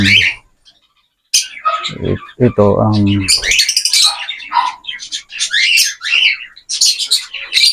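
Shrill, agitated bird squawks and chirps come in loud bursts as an egg-bound bird is handled during treatment, mixed with a person talking nearby.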